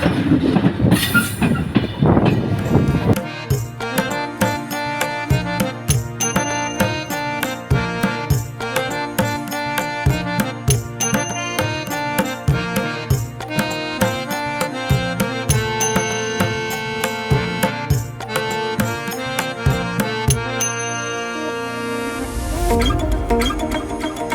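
Banalata Express train running on rails through a junction area, a steady loud rumble with rhythmic clickety-clack of wheels over rail joints throughout, with a brief harsher onset and a deeper roar near the end.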